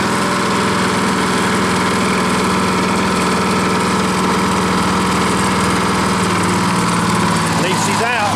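A Detroit Diesel engine runs steadily and loud, close by, with a constant low rumbling drone and vibration while fuel is pumped out of the tanks through the return line.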